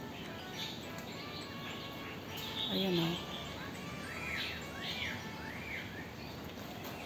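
Birds chirp and sing among large trees, with faint, repeated short calls scattered over quiet background hiss and a brief spoken voice nearby.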